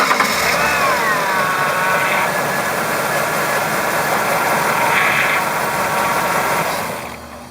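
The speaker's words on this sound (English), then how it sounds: "And let's start the car real quick." A car engine cranks and starts after a power steering fluid change, then settles into a steady idle that runs loud and close for several seconds before dropping off at the end.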